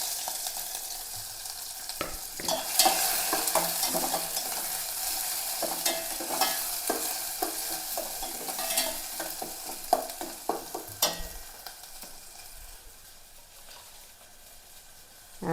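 Fenugreek, crushed onion, ginger and garlic hit hot oil in a pan, giving a steady close sizzle and crackle with occasional stirring scrapes and pops, no voices.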